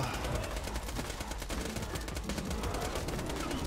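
Steady gunfire in the Borderlands 2 video game, a continuous stream of rapid shots mixed into dense background game noise, fairly faint and unbroken throughout.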